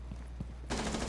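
Gunfire from a team-killing shot in a tactical shooter video game: a short, moderately loud burst of shots arriving near the end, after a stretch of quieter game ambience.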